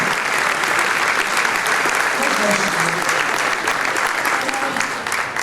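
Sustained crowd applause at an awards-style event, dense and steady clapping that fills the room for several seconds, with faint voices underneath.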